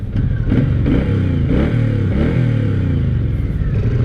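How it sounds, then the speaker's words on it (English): A 2023 Suzuki Boulevard M109R B.O.S.S., an 1800cc cruiser, pulls away from a stop with little throttle, its deep engine rumbling loudly and steadily and rising slightly in pitch, with no voices. "So taking off from a stop is easy because you don't really have to give it any throttle"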